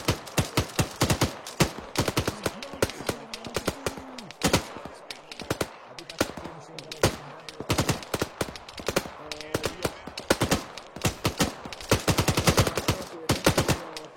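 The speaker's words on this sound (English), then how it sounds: "Machine gun." Machine gun fire in a video game, rapid bursts of sharp loud shots in quick runs, with players talking over the gunfire throughout.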